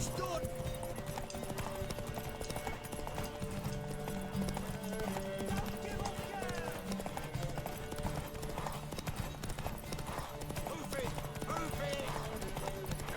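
Hooves clip-clop in a steady rhythm as a horse moves through the Witcher 3 game world, with occasional neighing, set under game music while voices talk over it.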